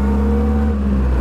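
A 99-year-old Bentley 3 Litre engine revs loudly and steadily up close, a deep, continuous vintage drone with no talk over it.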